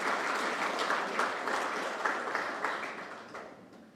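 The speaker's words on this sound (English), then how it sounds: "I ask everyone in this room to give them a resounding round of applause" Sustained audience applause fills a room at the launch of Guyana's national gold and jewellery brand, steady and fairly dense before slowly tapering off toward the end.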